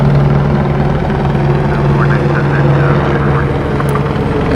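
A helicopter flies overhead at night in Los Angeles, giving off a loud, steady rotor drone with a low hum that holds through the whole stretch, with faint background sounds and no clear talk.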